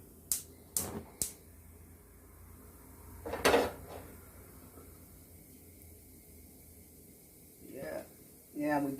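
Frying pan handled while processed mushrooms go back into it, a few quick metallic clanks and scrapes, then a softer rattle later, with sparse talk in between.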